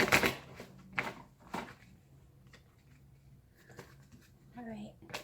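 Tarot cards are shuffled by hand in several brisk, papery riffles early on, then a few softer flicks follow, while a person speaks throughout.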